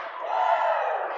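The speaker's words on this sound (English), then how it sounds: "Crowd getting into it a little bit." Home basketball game crowd cheering, a brief swelling roar of many voices shouting together in an indoor gym, fairly loud and sustained for about a second.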